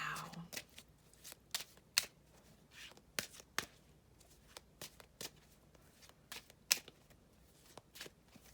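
A deck of tarot cards is shuffled by hand, producing quick crisp riffles and slaps in irregular bursts, close and fairly quiet, with soft speech occasionally audible.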